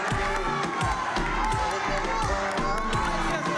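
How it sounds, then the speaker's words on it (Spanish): A studio audience at a bikini modelling show cheers and shouts in a loud, dense crowd roar with whoops, and clapping is mixed in beneath the voices for the whole stretch. "El público aplaudiendo a Robertita"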